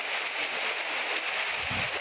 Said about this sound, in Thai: แล้วก็ฝนมานะคะ